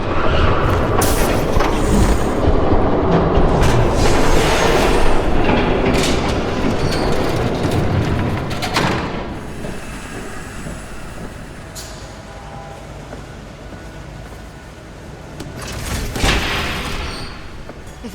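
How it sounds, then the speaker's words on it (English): A train passes in the video game Batman The Telltale Series, Episode 3, New World Order: a loud, steady rumble with clattering wheels and bursts of metallic squeal, fading partway through and then swelling again, with no talking. "There's a train coming."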